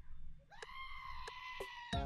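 A sheep bleats in Minecraft, a drawn-out wavering nasal call with a short second bleat at the end, close and clear against a low background rumble, with no talk.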